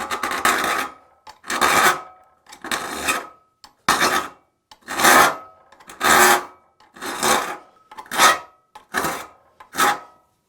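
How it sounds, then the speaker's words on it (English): A file rasps across the teeth and rakers of a crosscut saw in about ten steady, loud strokes, each a rough scraping burst with brief pauses between. "I'm going to rotate the file and kind of round it out."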